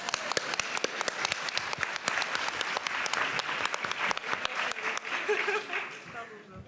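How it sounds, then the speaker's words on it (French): A room full of people clapping, fairly soft and distant, with sharp individual claps standing out and some voices murmuring beneath, fading toward the end. "Mais je propose de l'applaudir."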